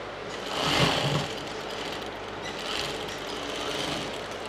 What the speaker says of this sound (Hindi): तो इसे हम ऐसे साइडों से सिल देते हैं।